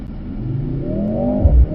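A 2023 Mercedes-AMG C63S E-Performance W206 accelerating on a race track, engine note rising steadily in pitch, then a brief deep thump near the end, heard from inside the car.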